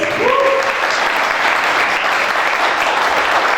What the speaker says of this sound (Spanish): Les pido un aplauso para ellos tres.